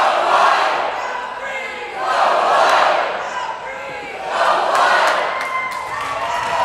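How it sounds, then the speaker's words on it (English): Crowds at a college dodgeball match between Grand Valley and Michigan State roar and chant in rhythmic surges, swelling three times in loud waves of shouting and cheering that fill the hall. "Listen to these crowds, though."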